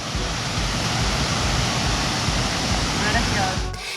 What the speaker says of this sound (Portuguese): A queda d'água é belíssima